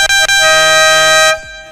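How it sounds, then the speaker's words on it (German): Horn sample triggered on a Roland SP-404 MK2 sampler: one loud, sustained brassy air-horn blast with two quick stutters at the start, holding steady before cutting off abruptly. "Jetzt wollen wir nochmal die Hupen hören,"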